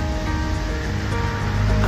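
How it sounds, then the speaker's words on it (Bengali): Small mountain waterfall in the hills of Darjeeling, a continuous close rushing splash of water, steady and fairly loud, swelling slightly toward the end, with no talking. "এই ঝর্ণাটা ছোট আর নামটাও আমার কাছে অজানা।"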